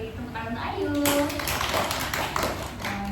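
Schoolchildren in a classroom group-guidance session clap for a fellow student, a dense burst of close, overlapping claps mixed with children's voices and talk.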